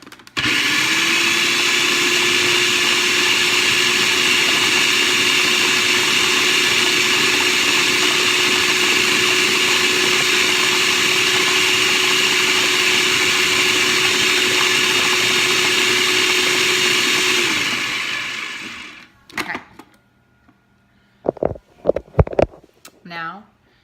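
Food processor pureeing tomatoes and cilantro for salsa, a loud steady motor whir that starts abruptly, runs about eighteen seconds and winds down, followed by a few brief clatters and short bursts of talk.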